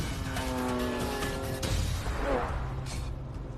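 A classic Lamborghini drives past with a rising engine note and a brief tire squeal midway, loud and fairly close, its rumble continuing as it moves away.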